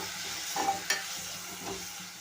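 Tomato and onion frying in a pan give a steady broadband sizzle, with a couple of brief scraping stirs near the start, close and moderately quiet, with no voices.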